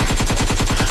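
Rapid burst of AK-47 automatic gunfire, about eight sharp evenly spaced shots in under a second, loud and close with no pauses between rounds.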